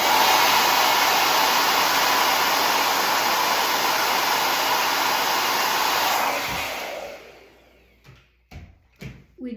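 A hair dryer blows steadily close by to dry paint on a daisy painting, a loud even whoosh that cuts off after about six seconds, followed by a few soft knocks and handling sounds.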